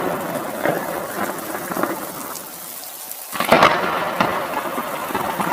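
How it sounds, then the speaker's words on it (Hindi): Steady broadband hiss of rain fills the clip, with a brief dip and then a louder surge of downpour near the end. "तभी अचानक तेज बारिश शुरू हो गई।"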